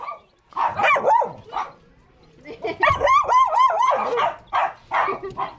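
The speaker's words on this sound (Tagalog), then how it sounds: "Daming aso." Several dogs bark and yelp in overlapping bursts, loud and close, with a short lull before a second, busier round of barking; a faint voice is heard underneath.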